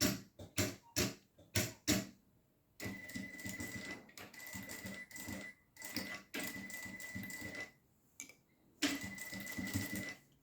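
Sewing machine stitching bias tape, a few short whirring bursts first, then longer steady runs of stitching with brief pauses between them, close and fairly quiet.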